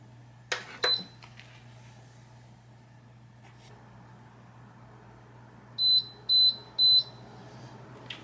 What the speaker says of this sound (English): it beeps to let us know that it's done